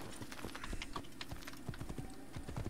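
Rapid horse hoof clip-clops patter in a quick, irregular rhythm in the video game Assassin's Creed, close and fairly quiet, with no voices.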